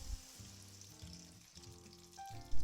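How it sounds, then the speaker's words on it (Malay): Bruised lemongrass stalks and ground onions fry in hot cooking oil with a steady close sizzle, soft stirring scrapes and a louder clatter at the end, no voices. "Panaskan minyak masak dan tumiskan 2 batang serai yang diketuk bersama-sama dengan bawang kisar tadi."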